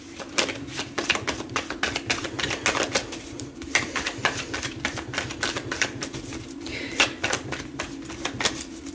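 Tarot card deck being shuffled close by: a continuous stream of fast, crisp flutters and riffling snaps at fairly steady loudness over a low background hum.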